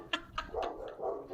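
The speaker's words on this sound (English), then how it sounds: "I'm sorry if you can hear my dogs barking." A couple of short dog barks sound indoors, fairly faint, followed by low muffled background noise and a soft trailing yip, with no talk over them.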